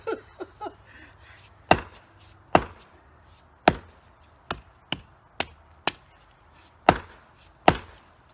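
The blunt back of an axe beats on wood outdoors, giving sharp, loud knocks that come irregularly, a few quick ones and then steadier single blows, about a dozen in all with no talking.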